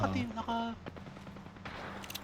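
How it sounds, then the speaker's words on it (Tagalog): Rapid gunfire rings out in a battle royale video game, a quick string of sharp shots under players talking. "Getting shot at."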